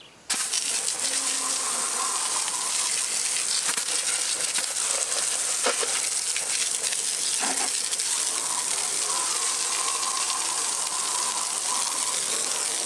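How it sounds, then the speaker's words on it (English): A water hose sprays steadily, rinsing degreaser off a dirty truck engine, tires and wheels, a loud continuous hiss and splatter with brief shifts as the stream moves, no voices. "So we're gonna rinse it up, see what happens."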